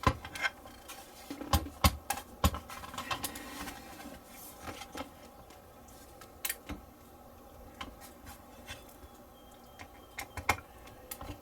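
Small screwdriver driving tiny AGO6 screws into a 1961 Jaguar XK-E scale model, heard as quiet, irregular clicks and ticks scattered over a faint background.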